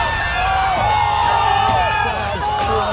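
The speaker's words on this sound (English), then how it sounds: "crowds cheering for them." A crowd at an outdoor tug-of-war competition cheers, whoops and shouts loudly and continuously, with voices rising and falling in excitement.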